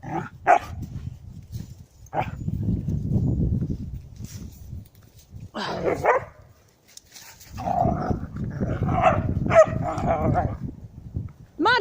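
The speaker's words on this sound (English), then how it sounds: "Mad dog. You stop it, Flinny." A dog out on a snowy woodland walk barks in a few short bursts, close by, between stretches of a person talking to it.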